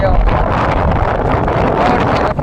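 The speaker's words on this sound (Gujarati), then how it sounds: "પવન" Strong wind beside a river near a village buffets the microphone, making a loud, continuous roaring rush that drowns out everything else for the whole moment.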